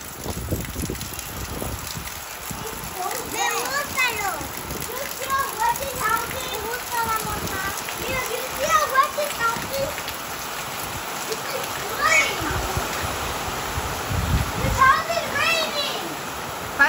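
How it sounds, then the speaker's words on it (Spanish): Rain pours steadily in the countryside of El Rubio, San José de las Matas, Dominican Republic, a continuous wash of drops while children's voices and chatter rise and fall over it. "Empezó la lluvia aquí en mi campo"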